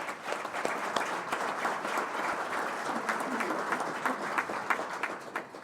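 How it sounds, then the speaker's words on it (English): An audience at a military program applauds for an Army staff sergeant, a dense, even wash of many hands clapping at moderate distance, steady throughout with no voices on top. "please join me in giving a round of applause to Staff Sergeant Telk"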